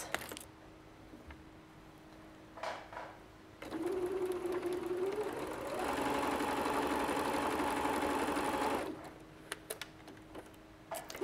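Sewing machine stitching fabric for toy making runs in a steady whirring burst of about five seconds, rising in pitch midway, with quieter handling and faint clicks before and after.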